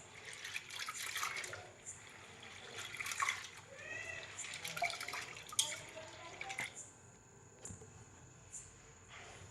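Cowpeas being washed by hand in a vessel of water, with intermittent sloshing, swishing and dripping close by, fading to quieter splashes toward the end.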